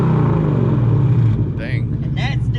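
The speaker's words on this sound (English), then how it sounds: "let it warm up a minute and we'll get some revs." Ford F150 with a Coyote V8, a straight-through muffler and catalytic converters still fitted: a loud, steady, deep engine rumble held close by, with voices joining in over the second half.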